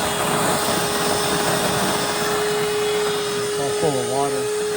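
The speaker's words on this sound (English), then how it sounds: "We're gonna go ahead and vacuum out the drain line first." A transfer pump vacuums water out of an air-conditioning drain line, making a steady, loud whining hum with a constant tone, heard up close and continuous, with a brief voice near the end.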